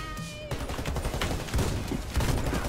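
Rapid gunfire from the Johnson 1957 rifle in the shooter Warface, a dense stream of loud shots running through the whole stretch with a few heavier bursts and no talk over it.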